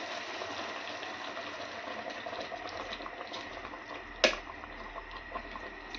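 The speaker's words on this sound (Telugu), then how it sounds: "ఇదిగో అలా ఉడుకుతుంది పాకం" Jaggery syrup boiling steadily in a covered pot, a continuous bubbling hiss with one sharp clink partway through.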